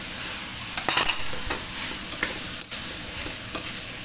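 Macaroni is stir-fried in a pan with a steady bright sizzle, while a utensil scrapes and taps against the pan every so often. No one speaks.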